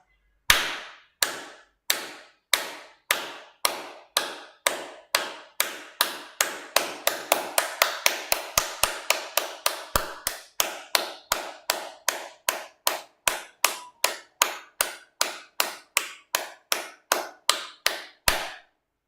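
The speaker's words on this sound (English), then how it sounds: "50 claps early in the morning stimulates the Hegu point" A group claps hands in unison during a morning meditation session, dozens of sharp, close claps in a steady rhythm that speeds up in the middle and then slows again, with no talking.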